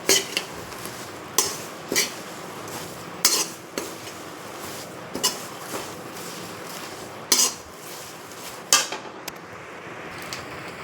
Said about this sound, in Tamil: பிச்சு போட்டுட்டு நல்லா கருவேப்பிலையை நல்லா வதக்கிடலாம்